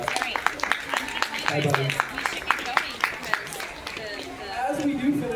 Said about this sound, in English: I think he deserves one more big round of applause as we finish up